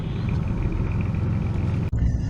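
A Ford Taurus engine gives a low, steady rumble that fills the short stretch, close and even, ending with a brief cut and a shift in tone.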